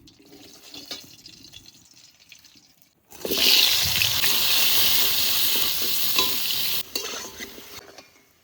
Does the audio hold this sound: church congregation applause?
no